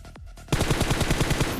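Rapid automatic gunfire in a mobile battle royale match, a sudden loud burst of evenly spaced shots that starts after a short lead-in and rattles on steadily to the end.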